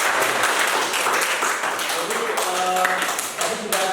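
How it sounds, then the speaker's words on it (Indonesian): A classroom applauds after a group presentation, a loud, dense burst of many hands clapping close by for several seconds, with voices mixed underneath. "Kita tepuk tangan dulu ya."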